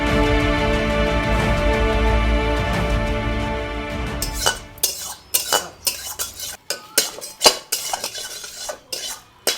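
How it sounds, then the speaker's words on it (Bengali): Pots, pans and cutlery clatter loudly during cooking: a steady metallic scraping and stirring at first, then a rapid run of sharp clanks and clinks, close and busy, with no talking. "এত কি শব্দ করে এতে খেটার মেটার খেটার মেটার এত জোরে রান্না করে নাকি"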